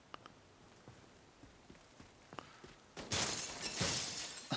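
Glass being shot out in the tactical shooter America's Army: Proving Grounds: faint scattered ticks and small impacts, then a loud burst of shattering and crashing debris that sustains through the final seconds.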